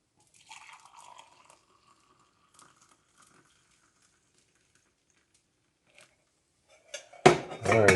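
Ponderosa pine needle tea decoction is poured from a pot after a long near-silence with a few light clinks, ending in a loud, close, steady splashing pour.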